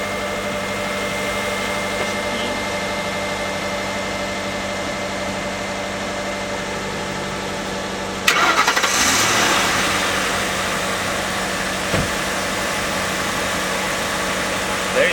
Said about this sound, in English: If it's really dead, you can let the vehicles run for a minute.